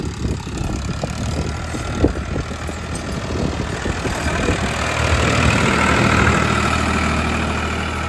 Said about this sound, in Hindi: ये छोटू का ट्रैक्टर है भाई